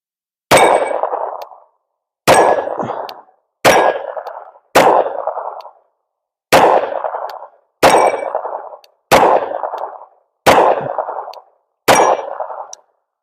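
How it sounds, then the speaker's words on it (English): Nine rounds of 9mm pistol fire striking steel targets, each hit a sharp ringing clang that decays over about a second, spaced irregularly one to two seconds apart, loud and close with no talking. "You'll hear the ding."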